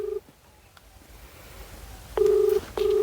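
A telephone rings in short electronic tone bursts, with one beep at the start and two longer bursts near the end, fairly close and clear over a quiet background.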